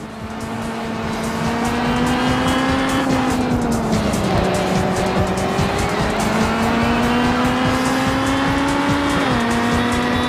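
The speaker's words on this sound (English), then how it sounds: "even the way that the car moves around the track and how it downshifts" Racing car engine from the video game Real Racing HD, a loud sustained whine that rises and falls with gear changes and downshifts, continuous for the whole stretch with tire noise underneath and no talking.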